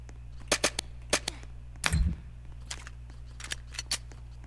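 Sharp gunshots crack at close range in an airsoft video game, spaced irregularly with a denser burst in the middle, over a low steady hum.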